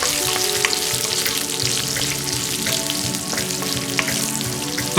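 Crushed garlic and dried red chilies sauté in hot oil in a pan, a steady, close sizzle crackling throughout with small pops and occasional scrapes of stirring, no voices.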